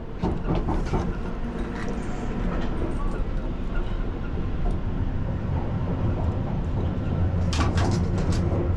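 A London Underground Piccadilly line train runs westbound into a tunnel, with a steady loud rumble and rattling wheel noise heard from inside, the clatter unbroken and without talk.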